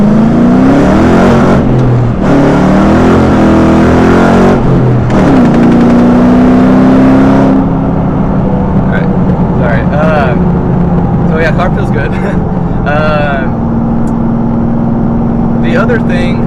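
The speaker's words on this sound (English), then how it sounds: "as you can hear, you know, this is not the stock exhaust. It's got cams and long tube headers. No cats, no mufflers. It's too loud" Ford Mustang with cams, long tube headers and no cats or mufflers, its loud exhaust droning and swelling steadily under the cabin, rising and easing through gear changes, with someone talking briefly over it.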